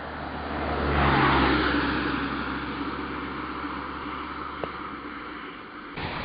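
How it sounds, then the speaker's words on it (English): Steady roar of cars passing on a nearby road beside a tree, swelling as one vehicle goes by and then settling into a continuous traffic hiss. "That's why you can hear so many cars"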